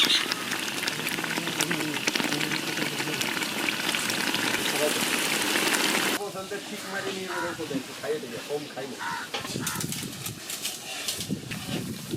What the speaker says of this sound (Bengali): মশলাটা 5 মিনিট ভাজা হয়ে গেছে